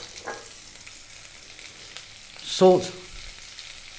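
Sliced onions frying with curry leaves crackle in a steady low sizzle, with a brief stir or toss partway through; a voice speaks one quick word over it.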